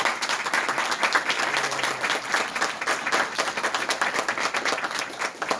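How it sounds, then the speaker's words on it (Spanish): Loud audience applause at a physics lecture, many hands clapping in a dense, continuous burst that holds steady throughout without any speech. "así que principalmente un aplauso fuerte para Pedro y Nacho."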